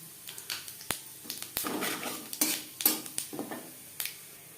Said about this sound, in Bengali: বড়ি ভেজে নেওয়া তেলে দিয়ে দেব 5 ফোড়ন